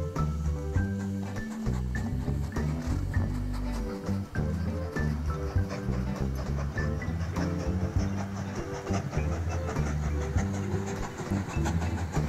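A train runs in the railway-building video game Mashinky, a steady rolling rumble with rhythmic clatter mixed under a layered musical soundtrack, continuous and moderately loud throughout.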